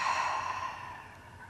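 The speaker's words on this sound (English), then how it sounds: "And then exhale all your air out." A long, steady breath pushed fully out during a Pilates neck exercise, a soft, close airy exhale that fades gradually over about a second, alone with no talking.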